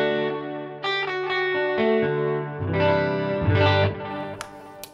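Electric guitar through a POD Go preset with a delay set to about four repeats, playing sustained chords and notes whose echoes trail off and fill the space, with modulated, slightly driven tone, loud and alone.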